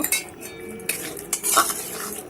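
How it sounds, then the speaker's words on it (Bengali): Chilli baby corn is stir-fried with red chilli sauce in a pan. A spatula scrapes and clatters against the metal over a steady sizzle, close and continuous. "দেখুন এইভাবে ভালো করে একটু কষিয়ে নিতে হবে।"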